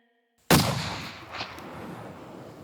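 A single loud rifle shot fired during a hunt at about 200 yards cracks out sharply, then its roar rolls away into a long, fading echo across open country.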